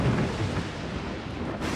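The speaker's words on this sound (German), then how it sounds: "Es ist ein wahres Blitzgewitter." Deep rolling thunder from a lightning storm rumbles loud and continuous, a broad low roar with no voices.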